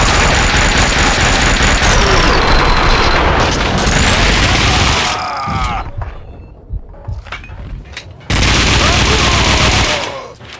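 Dense gunfire rattles through a Max Payne video game firefight, loud rapid bursts with booming shots, a short quieter gap with scattered single shots, then heavy firing resumes, with game voices shouting between.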